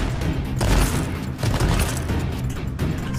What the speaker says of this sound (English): Is somebody else shooting here?